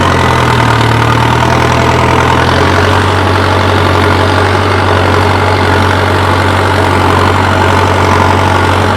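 A tractor engine with a cultivator idles steadily close by, a loud continuous low rumble with a slight shift in pitch early on, no voices over it.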